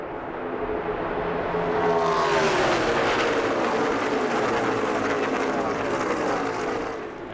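Stock cars in a NASCAR race roar past on the backstretch at Texas Motor Speedway, a loud broadband engine howl that swells and sweeps by with a Doppler pitch drop, sustained throughout.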